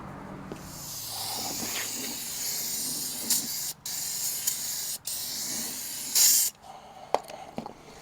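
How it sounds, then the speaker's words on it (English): Aerosol brake cleaner hissing onto a truck brake drum on a Freightliner FLD, a few short bursts and longer sprays of broad hiss at close range, with brief gaps between them and no talk. "I got to get some brake cleaner and clean the drum."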